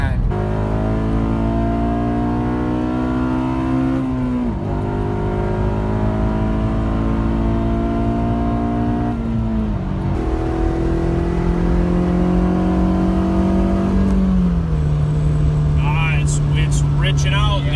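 A Honda car engine with a Hondata basemap tune revs hard and steadily throughout, its pitch climbing and then dropping back in several long pulls. The engine runs loud and close, with people talking over it.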